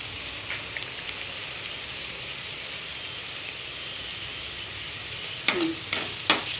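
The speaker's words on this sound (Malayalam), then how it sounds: "ഞാനിപ്പോൾ മൂടി തുറന്ന് ഒന്നുകൂടെ ഒന്ന് ഇളക്കി കൊടുക്കുകയാണ്." Beans fry quietly in a pan with the lid just lifted, a soft steady sizzle under a few light stirring clicks, then several sharp spoon-against-pan scrapes near the end.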